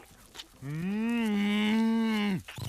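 A single long, low cartoon cow moo, steady and close, lasting nearly two seconds before cutting off.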